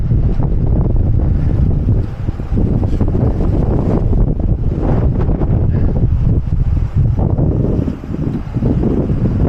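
Strong wind buffets the microphone in the Gorges de Galamus, a loud, continuous rumbling roar with brief lulls and no speech.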